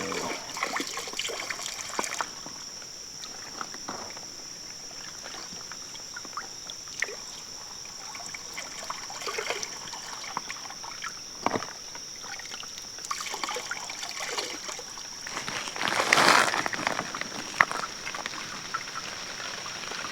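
Water trickles and splashes softly at a creek-side backpacking camp as water is being collected, with a faint steady flow in the background and a louder burst of splashing near the end.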